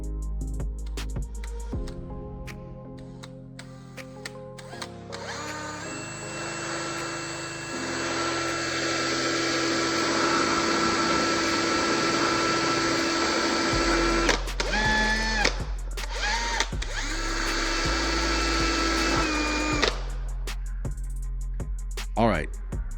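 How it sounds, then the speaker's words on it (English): A power drill bores a hole in the bottom of a handle to fit a DC jack for a homemade automatic drill, a loud sustained whine in two long bursts separated by a brief pause, with speech in between. "I'm going to drill a hole here to install the DC jack."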